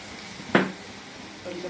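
Salted drumstick pieces fry in a pan with turmeric, giving a brief sharp hiss and then a soft, steady low sizzle close by.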